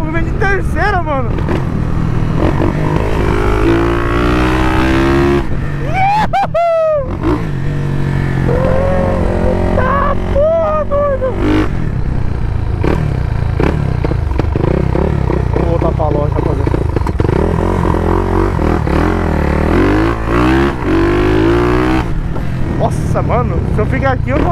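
A Yamaha XT660 motorcycle fitted with TBI is revved hard during a wheelie, its engine climbing and dropping through repeated loud pulls, heard up close under excited talk.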